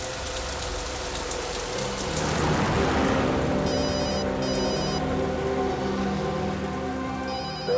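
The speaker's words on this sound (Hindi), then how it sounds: "दयाबेन का फोन।" A telephone rings in short repeated electronic bursts over a steady rain-like hiss, moderately loud and close, and the rings return after a brief gap.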